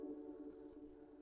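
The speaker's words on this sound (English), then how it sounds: "This is a pad, a whale kind of sample which I'm using," A soft whale-like synth pad sample from an electronic track, with reverb, delay and the highs cut, plays as a sustained low drone with a steady tonal hum, quiet and alone.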